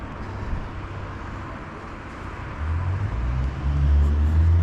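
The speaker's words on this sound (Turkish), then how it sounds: "Şimdi şurada arkadan geçecek olan araba. O mavi araba." A car passes on the road behind at a traffic light, a low engine rumble that grows louder over the last couple of seconds as it approaches.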